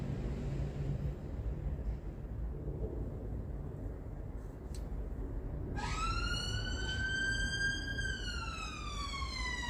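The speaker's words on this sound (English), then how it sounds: "Golden Blues Festival's on, so you'll hear a lot of sirens." An emergency vehicle siren wails in the distance in a town during a blues music festival. A steady rising and falling tone starts about halfway through and carries on above a low traffic rumble.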